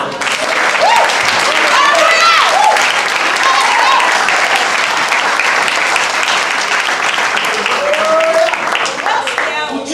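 A church congregation applauds steadily and loudly for the full ten seconds, a dense sustained wash of clapping with a few voices mixed in.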